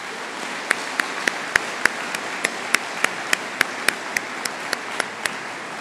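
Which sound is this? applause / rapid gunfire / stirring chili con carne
applause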